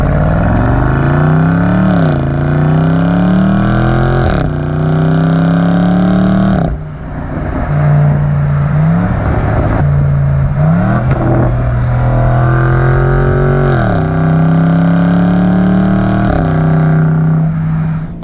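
A 2019 BMW M850i xDrive in sport mode: loud, close engine revving through repeated rising pulls with sharp gear changes and drops between, a deep exhaust note building and falling several times.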